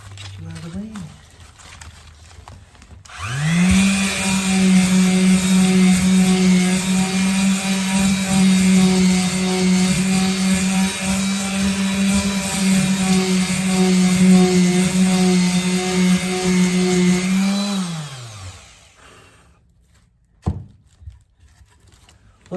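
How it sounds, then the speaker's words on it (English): A power sander runs steadily on a birch log lamp, a loud, even motor whine with strong harmonics starting abruptly and holding for about fifteen seconds before spinning down, close to the listener. "Now it's time to sand."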